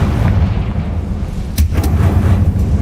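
Confringo spell explosions in Hogwarts Legacy: a dense, roaring rumble throughout with a couple of sharp bursts near the middle, loud and close.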